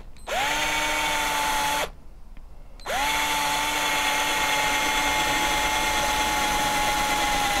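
A power drill whines steadily at close range drilling a hole in a walking stick, stops briefly for about a second, then spins up again and runs continuously to the end.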